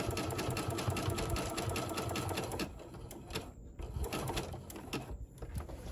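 A sewing machine stitches off the end of a decorative fabric hot pad with a fast, even mechanical whirr, running steadily for a few seconds and then slowing into short bursts and clicks, close by with no talk.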